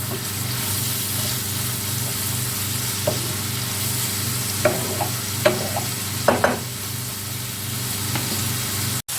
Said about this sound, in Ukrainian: І ось так помішуючи, продовжуємо смажити.